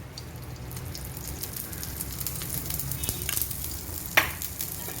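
Pancake batter sizzles gently on a non-stick pan with no oil over a low flame, a soft steady crackle with a few faint clinks and one sharp tap near the end.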